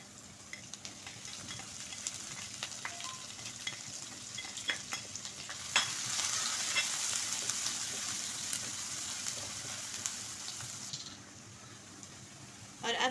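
Chopped onions and green chilies hit hot oil in a pan, giving a continuous broad sizzle that swells louder partway through with occasional stirring clicks, then settles back near the end.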